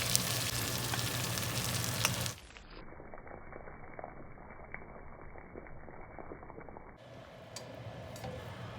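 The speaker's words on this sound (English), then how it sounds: "we're going to baste it in a little bit of foamy butter" Cornish game hens are basted in foamy butter in a hot pan, a soft steady sizzle with faint spattering and liquid squishing, close and quiet, the tone shifting midway as the sound thins then returns.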